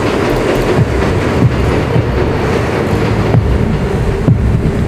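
A subway train riding through tunnels in Assassin's Creed Revelations, a loud, continuous rumble with rhythmic clickety-clack of wheels over rail joints and no talking.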